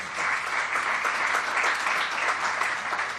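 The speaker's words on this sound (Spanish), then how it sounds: "Y luego, un aplauso," An audience at a financial conference panel applauds, a dense, steady round of clapping that holds at an even level from start to finish with no voices over it.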